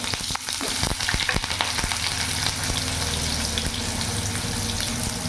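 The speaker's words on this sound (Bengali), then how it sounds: "তেল গরম হয়ে গেছে, এবার পটলগুলো আমি দিয়ে দেবো।" Pointed gourd (potol) sizzles steadily in hot refined oil in a pan, a dense continuous frying hiss with occasional sharper crackles and spatters, close and fairly loud throughout, no voices.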